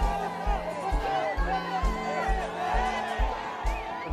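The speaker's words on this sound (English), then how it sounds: "when you get a crowd like this and they go as crazy as this" A big crowd at a Red Bull demo in Mexico City cheers and shouts wildly, a dense, roaring wall of voices under a steady thumping music beat.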